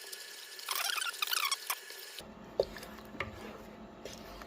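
Jalapeño cheddar bread dough, made with instant yeast, warm water, pickled jalapeños and cheese, is stirred and squished by hand, giving a burst of wet, sticky patting and squelching followed by softer scattered clicks and squishes.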